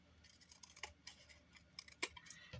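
Scissors cut through a wet mini junk journal cover, giving a few quiet, crisp snips in an irregular rhythm, close and faint against a still background.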